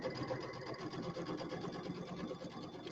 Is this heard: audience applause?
no